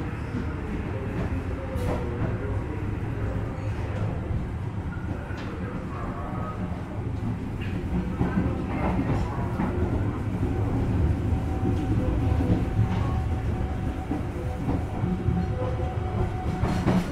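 An Indonesian passenger train, the Fajar Utama Yogyakarta, rumbles along steadily on its rails, a continuous low roar with faint rhythmic clatter and occasional squeaks throughout.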